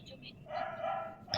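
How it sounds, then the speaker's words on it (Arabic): Dogs bark faintly in a Fortnite map at night, a short yelping call under nearby voices talking. "يما في صوت كلاب"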